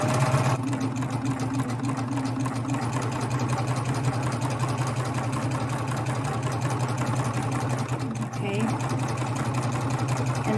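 Close, loud whir of a sewing machine running a garment seam with a binding attachment, its rapid needle beat continuing steadily with one brief dip near the end.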